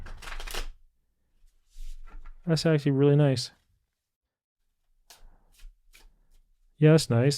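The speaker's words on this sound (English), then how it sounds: "How does this deck shuffle?" An Etteilla tarot deck from the Book of Thoth being shuffled by hand: two bursts of close, crisp riffling cards, each lasting about a second, with people talking briefly between them.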